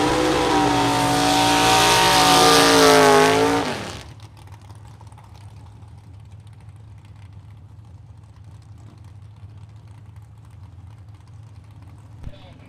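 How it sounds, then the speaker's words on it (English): A 1937 Chevy Coupe does a smoky burnout at a vintage drag race. A loud, roaring engine howl climbs in pitch, then cuts off abruptly, leaving a low idle rumble and distant crowd noise. "A nice smoky burnout for Ted Beach in the 37 Chevy Coupe."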